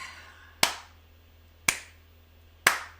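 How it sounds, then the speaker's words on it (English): Three slow, soft handclaps of a quiet golf clap, evenly spaced about a second apart, each a sharp isolated smack over faint room hum with no talking. "Low golf clap."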